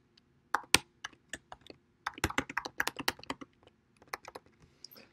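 Typing on a computer keyboard at a desk, entering a line of code: irregular bursts of crisp key clicks, some quick runs and a few isolated taps, close and fairly quiet with no talk.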